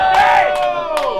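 Crowd at a rap battle reacting with loud, dense shouting and cheering that swells in bursts across the short moment.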